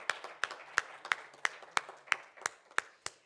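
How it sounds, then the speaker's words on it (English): Sparse, steady hand clapping at a fintech workshop, about ten sharp claps spaced evenly at roughly a third of a second, fairly faint and with no talking over them. "I think this calls in for a huge round of applause."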